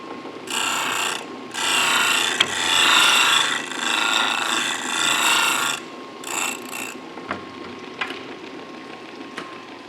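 A Sellers 6G drill grinder dresses a drill bit, giving a sustained rasping grind that comes in bursts with short pauses and a few sharp ticks, then tails off into quieter intermittent scraping; no one speaks.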